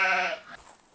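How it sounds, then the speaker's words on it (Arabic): A sheep gives one short, close bleat that starts loud and tails off within a second, with no voices around it. "خروف"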